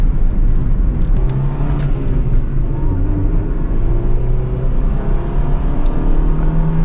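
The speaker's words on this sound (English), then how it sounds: "As soon as my foot goes down, it's giving power to the car." A car engine pulls hard under throttle, a loud, steady, close drone of motor and road roar that holds level without breaks and with no talking over it.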